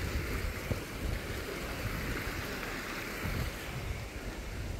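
The Slănic river rushing past a dam diverting water to a trout farm, a continuous broadband roar of flowing water with gusty wind buffeting the microphone, steady and close.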